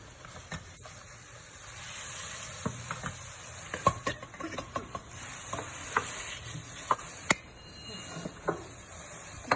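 Hot oil with red pepper poured over a pot of soup sizzles and crackles, with a steady hiss broken by sharp pops and small spattering bursts close by.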